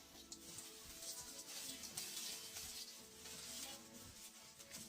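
Homemade sun-dried potato chips rattle and crackle crisply while being handled, a steady close-up rustle that carries through the clip with no voices.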